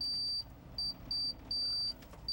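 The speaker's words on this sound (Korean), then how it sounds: "목표 지점에 도착했다는 경보음이 울리자 어군 탐지기에 큰 물체가 나타났다." An alarm beeps on a fishing boat at sea off Tsushima, searching for a sunken Russian warship; a high-pitched tone repeats in several short bursts over steady engine and water rumble.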